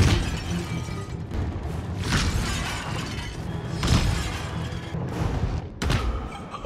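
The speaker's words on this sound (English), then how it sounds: "and crash into glass pipes." A demon crashes into glass pipes in the horror game Bendy and the Ink Machine, producing a dense, continuous rumble of shattering glass and heavy thuds, with several sharper crashes standing out close and loud.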